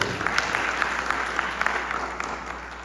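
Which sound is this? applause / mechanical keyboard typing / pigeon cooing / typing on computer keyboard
applause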